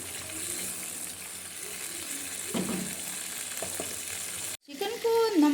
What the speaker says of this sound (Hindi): इस तरह से चिकन की हम बुनाई करेंगे मीडियम फ्लेम पे और इसको पकाएंगे